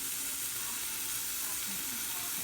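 Shrimp heads and shells sizzle in a pot for homemade seafood stock, a steady, fairly quiet broadband hiss with no breaks and no talking.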